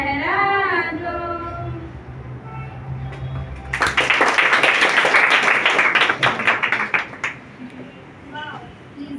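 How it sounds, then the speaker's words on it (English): At an Independence Day celebration an audience breaks into loud clapping after a performance. The applause runs for about four seconds between stretches of speech. "please give them a loud round of applause"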